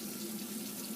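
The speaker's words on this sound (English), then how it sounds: "Get this water warmed up a little bit." Warm water runs steadily from a tap into a bathroom sink before a straight-razor shave, a continuous close hiss and splash lasting the whole moment with no voices.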